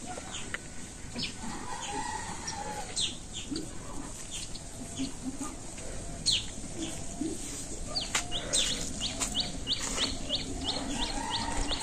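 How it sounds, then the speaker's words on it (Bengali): Village birds, with a rooster among them, call and chirp in short repeated bursts over steady outdoor ambience during the rainy season, moderately close and continuous, with no talking. "পাখিগুলো অনেক সুন্দর,"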